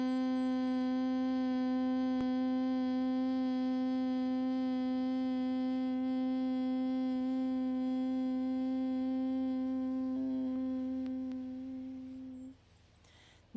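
A steady, sustained hum voiced during a yoga exhale, held for about twelve seconds, rich with overtones, fading out at the end; no talking.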